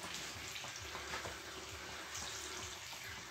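Quiet, steady sizzling and crackling of jam-filled pies frying in a pan, a continuous broadband hiss with no voices.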